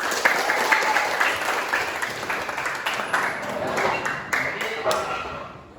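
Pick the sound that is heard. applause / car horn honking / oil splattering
applause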